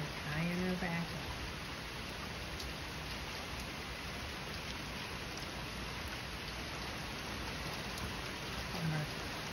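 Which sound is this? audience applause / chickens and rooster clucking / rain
rain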